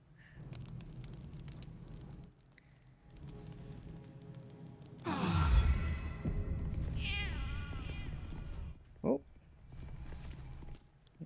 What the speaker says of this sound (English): It's a very loud kitten.